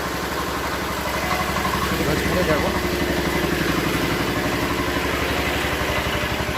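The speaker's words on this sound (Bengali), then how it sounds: "জেনারেটর স্টার্ট দিয়ে দিয়েছি।" A generator engine runs steadily at a poultry farm during a rainstorm, a loud continuous low idling drone with rhythmic clatter throughout, while a voice speaks briefly over it.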